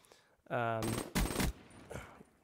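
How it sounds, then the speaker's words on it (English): Rapid bursts of M8 burst-fire rifle shots crack loudly in Black Ops 3 beta gameplay, two dense volleys following a short spoken phrase, with a quieter trailing shot afterward. "This gun, this is the M8, it's the burst fire."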